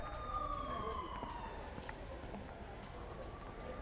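A distant air-raid siren in Srinagar wails faintly with a falling, wavering tone over a steady background rumble.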